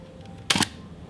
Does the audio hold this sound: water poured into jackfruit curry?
no